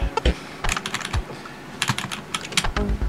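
Computer keyboard keys are pressed in quick irregular clusters while someone plays the game Tomb of the Mask, close and clicky with brief pauses between bursts and no talking.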